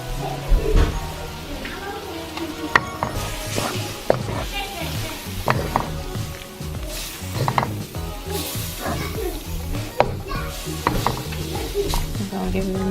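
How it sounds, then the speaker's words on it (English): A seasoned cream sauce being stirred in a pan for steak fettuccine, with scraping and clinking of the utensil against the pan over a steady sizzle, close and moderately loud, with bursts of busier stirring throughout. "I'm gonna give it a mix and see that seasoning getting inside the cream."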